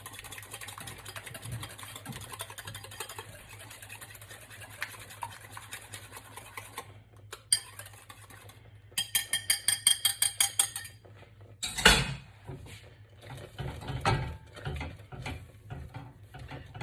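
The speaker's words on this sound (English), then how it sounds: "I'm just going to add my sugar to my egg yolks. Just give that a little whisk." A whisk scrapes and clicks against a bowl while sugar is beaten into egg yolks for a soufflé, with quick rhythmic taps in bursts, a steady low hum from the stove beneath, and near, fairly quiet scraping.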